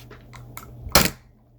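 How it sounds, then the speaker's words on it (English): A metal padlock is handled briefly, giving a few light clicks followed by one sharp, louder metallic clack, close and isolated. "That noise you just heard? That's a padlock."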